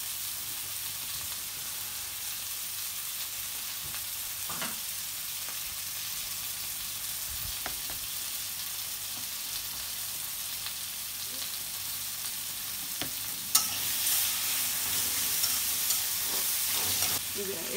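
Ginger garlic paste with turmeric, chilli, coriander and cumin powders fries in a pan, a steady close sizzle with occasional stirring scrapes that swells into a brighter hiss near the end.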